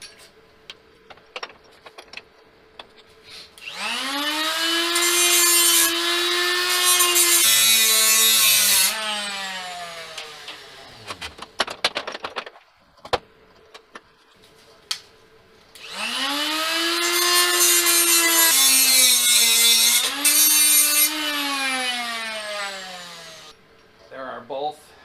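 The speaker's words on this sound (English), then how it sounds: "Once you've cut off a threaded bolt or axle like this," A threaded steel axle for a mini Model S model car chassis is cut off in two long passes, each a loud, rising and falling tool whine with a gritty cutting hiss. A quieter gap with faint clicks sits between the passes.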